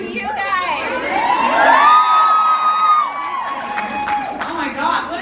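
A packed convention panel audience at ClexaCon 2017 erupts in loud cheering, high-pitched screams and whoops, swelling in the middle and then trailing off into scattered shouts and a few whistles.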